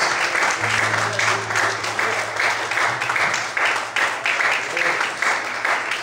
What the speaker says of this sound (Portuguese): Mais forte as palmas.